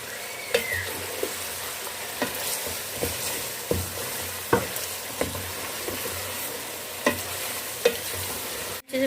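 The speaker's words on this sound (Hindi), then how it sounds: "पाँच मिनट की हम अच्छे से भुनाई कर लेंगे।" Haleem ingredients roast in a pan under a constant low sizzle, while a spoon scrapes the pan in regular strokes about once a second, close by and with no voices.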